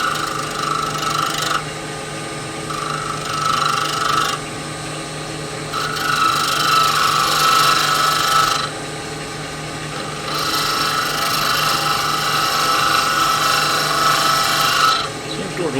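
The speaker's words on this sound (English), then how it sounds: "I'm going to go to a shallow fluted gouge that I just sharpened and see if I can do it with that" A freshly sharpened shallow fluted gouge cuts wood for a box with inserted brass threads, making repeated raspy, scraping strokes that come in long bursts separated by brief pauses over a steady mechanical hum.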